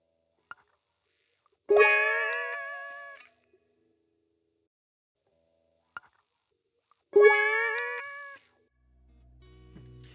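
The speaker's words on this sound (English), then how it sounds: "this is how the harmonies by themselves sound like" Two short harmonized synth melody phrases with a semitone slide, each sounding alone after a brief click, with a low bassy swell entering at the end; a bouncy trap-style melody.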